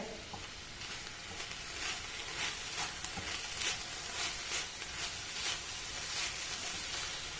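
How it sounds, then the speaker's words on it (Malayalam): Sword bean thoran being stirred in a pan, a steady soft sizzle and hiss of the cooking beans with faint scraping pulses from the stirring, close and continuous with no talk. "ഇനി നമുക്കൊന്ന് ഇളക്കിയിട്ട് കൊടുക്കാവേ"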